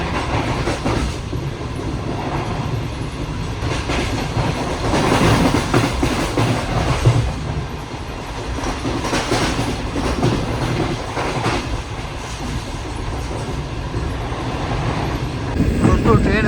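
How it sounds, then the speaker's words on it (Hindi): Shah Hussain Express train running through a station between Karachi and Lahore, a steady loud rumble with rhythmic clickety-clack of wheels over rail joints for the whole stretch, with some speech faintly mixed in. "तो ट्रेन हमारी बड़े प्यार से स्किप कर रही है धाबाजी रेलवे स्टेशन को।"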